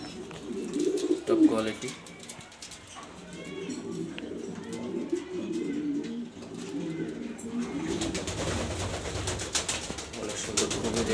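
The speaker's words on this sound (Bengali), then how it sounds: "অনেক সুন্দর, খুবই রেয়ার কালার কবুতর" Pair of rare-coloured male pigeons coo repeatedly in a loft, soft throaty calls close by, partly under someone talking.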